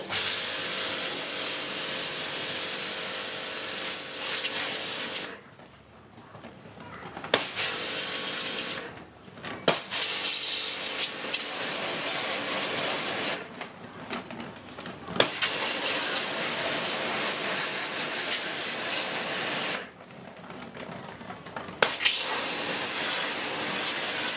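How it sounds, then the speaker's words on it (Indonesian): A high-pressure water spray washing an LG air conditioner, a loud continuous hiss that cuts off in several brief pauses and then resumes, with occasional knocks from the spray. "Tapi ini kayaknya airnya terlalu kenceng ya tekanannya ya, jadi harus dari jauh."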